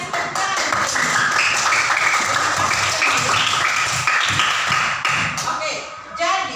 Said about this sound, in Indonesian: Iya, betul sekali, kasih tepuk tangan.